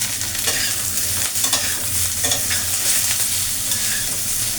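Lightly boiled cabbage and cauliflower fry in oil in a pan, a steady loud sizzle broken by repeated scraping stirs of a spatula, with no talking.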